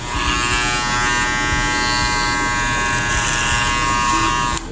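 Electric hair clipper buzzing steadily and close up while cutting an American-style taper fade in a barbershop, a continuous uninterrupted drone that holds throughout.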